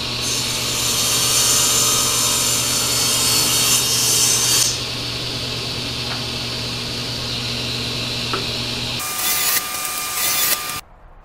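Power saw cutting a wenge wood board into segments, a loud, steady whining cut that drops to a lower run after about four seconds, then a brief rising burst before stopping near the end.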